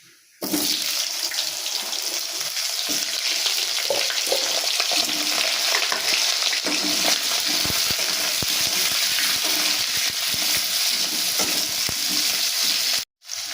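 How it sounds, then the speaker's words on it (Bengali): Potatoes fry in hot oil with cumin seeds and bay leaf for a paneer curry. A loud, steady sizzle runs throughout, with scraping stirs and crackles, then cuts off sharply near the end. "পনিরের আলুগুলো খুব ভালো করে আমার ভাজা হয়ে গেছে"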